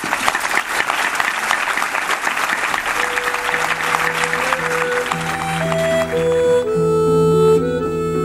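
Audience applause at a book presentation for the novel La lengua de los secretos, a dense sustained round of clapping that gradually gives way as a music track fades in underneath and takes over near the end.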